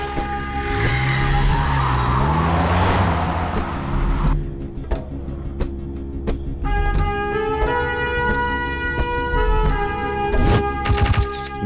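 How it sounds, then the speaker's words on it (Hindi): In a dubbed action film scene, a car engine revs and the car pulls away fast, with a loud rising engine roar blended with a busy background score and no speech. "जल्दी से गाड़ी निकाल"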